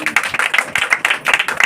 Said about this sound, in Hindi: इसके लिए जोरदार तालियां प्रभु के लिए।